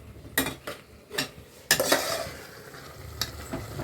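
Ground tomato paste blended with coriander and mint sizzles in a pan for mutton biryani while a spoon stirs it, giving several scraping knocks over a constant frying hiss, close, with no talk.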